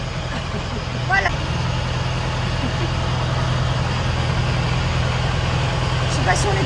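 A smoking boat motor drones steadily and loudly on the water, a constant low rumble that runs through the whole stretch without pause.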